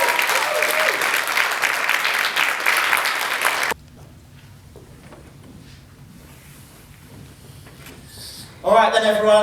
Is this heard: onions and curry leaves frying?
no